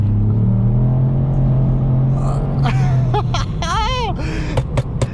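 A Ford Fiesta ST with a TRS Stage 1 remap accelerates in third gear, a loud close engine drone rising in pitch, with brief sharp whines and squeaks near the end.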